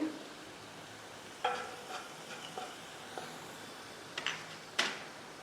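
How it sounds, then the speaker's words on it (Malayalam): Coriander powder being stirred into a pan for a Kerala puli inji: a few soft, scattered scrapes and clinks of a spoon, quiet and close over a low hiss, with no voices. "അതിനകത്തേക്ക് മല്ലിപ്പൊടി ചേർത്ത് കൊടുക്കാം. ഒന്ന് ഇളക്കി യോജിപ്പിക്കാം."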